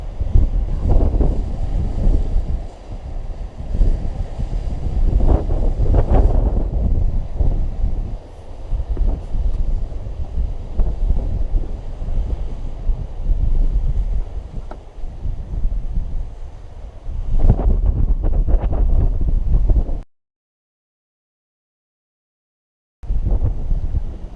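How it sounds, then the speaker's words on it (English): Waves washing onto the rocky shore of Murlough Bay on the North Antrim coast in repeated surges, mixed with steady wind buffeting the microphone, with a brief gap of silence near the end. "just the sound of the water as well"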